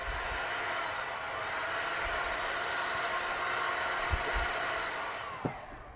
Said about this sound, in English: There's a bit of glue inside here, so I'm just going to heat it up.